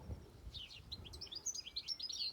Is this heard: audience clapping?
no